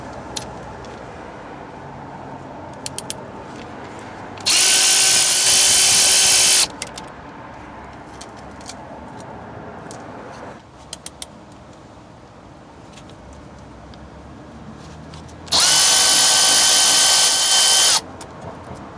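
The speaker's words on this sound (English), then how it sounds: "remove the lug nuts with a 19mm socket, then remove the 2 caliper bolts with a 14mm socket" Power tool whirring in two loud bursts, about two seconds each and well apart, as it spins lug nuts off a 2006-2010 Jeep Commander with a 19mm socket, over quiet background noise and no talk.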